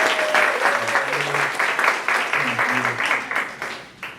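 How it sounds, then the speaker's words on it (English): A conference audience claps together in warm, sustained applause, loud and close, while a few voices murmur and call out beneath it before it starts to fade. "Can you give it up for our friends?"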